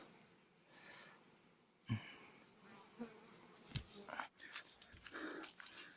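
Faint buzzing of honeybees drifting close and away outdoors at an apiary during a hive inspection, with a few soft knocks and a quiet voice at moments.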